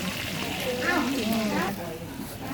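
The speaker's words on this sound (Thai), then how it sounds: "อันนี้ทอดปลาค่ะ" Fish frying in oil at a home gathering, a continuous moderate sizzle with a voice talking over it partway through.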